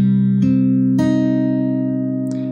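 Guitar strumming a minor chord, three quick strums that ring out and slowly fade, close and clean with no voices.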